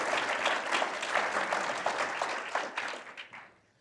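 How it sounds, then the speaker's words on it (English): An audience gives panelists a round of applause at a panel event, steady dense clapping that tapers off and fades out toward the end. "let's give them a round of applause first"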